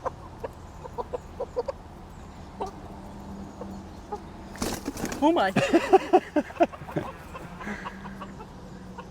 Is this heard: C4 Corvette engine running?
no